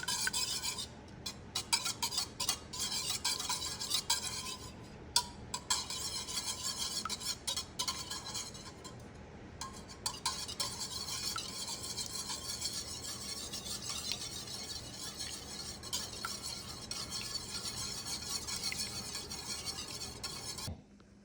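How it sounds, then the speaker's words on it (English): Eggs whisked in a bowl for a simple bacon-and-eggs breakfast, a steady rapid scraping and clinking of whisk against the bowl continuing close and fairly loud for the whole stretch, with no talking. "Then stir."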